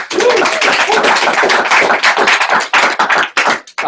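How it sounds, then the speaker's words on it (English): Dense, loud applause from an audience at a business opportunity meeting, steady broadband clapping that sustains through the clip before thinning out and fading near the end. "Let's give them a big round of applause"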